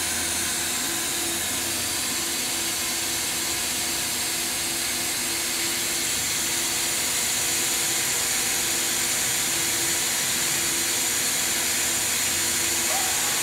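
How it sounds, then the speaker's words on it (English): Spindle of a Brother CNC 830 machining center running at 1500 RPM, a steady broadband whir with a faint tonal hum, continuous and fairly quiet throughout with no talk. "run the spindle"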